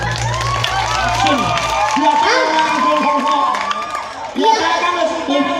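Audience clapping and cheering at a dangdut awards show, loud and busy, mixed with shouts, whoops and voices talking, with music-like tonal sounds running underneath.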